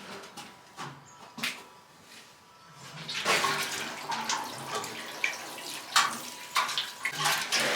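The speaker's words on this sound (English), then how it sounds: "I'm just gonna give them a soak." Water pours and splashes onto dry seedling pots in uneven bursts, close and moderately loud, with soft drips and trickles between the heavier gushes.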